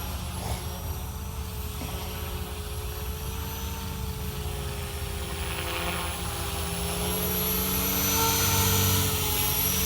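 A Blade 500X RC helicopter flies outdoors on its first real flight, its steady whining rotor and motor hum staying moderately distant with gently shifting pitch and slowly growing louder toward the end.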